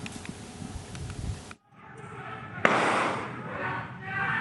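Police gunshots ring out during the arrest of four robbers on a national highway in Ciamis, West Java: a sharp crack stands out, followed by sustained loud noise, with earlier rumbling and voices around it.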